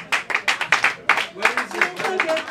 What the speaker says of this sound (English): Let's give him a loud applause.